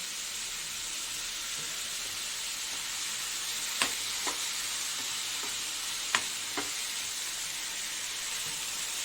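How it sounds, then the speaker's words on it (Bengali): Garlic, ginger, chilli and tomato paste sauté in hot oil with a steady, even sizzle. A few sharp knocks of a stirring utensil against the pan stand out, and no one talks. "এই যে কষাচ্ছি একটু ভালো করে"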